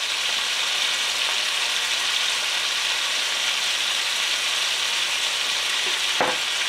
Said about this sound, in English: we're just gonna stir everything up